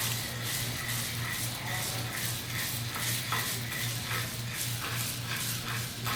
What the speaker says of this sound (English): we'll take the pipe clamp and stir it around just to make sure that we had it in a stable area